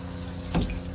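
Water spraying over a window frame during a rinse, a short, close burst of splashing rising out of a steady background hiss, with no talking.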